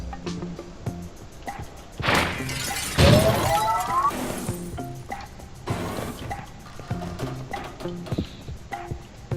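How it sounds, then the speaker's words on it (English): In the puzzle game Quantum Conundrum, a pane of glass shatters loudly with a sharp crash and scattering shards, surrounded by thumps and quieter game ambience. "the breaking of this glass is a necessary evil"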